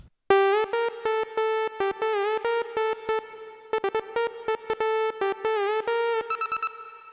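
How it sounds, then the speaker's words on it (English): A bright synthesized trap laser tone made in Reason 7 stutters in rapid rhythmic bursts, with quick pitch zaps and sweeps, loud and alone. "a more conventional, kind of smoother trap laser sound like this."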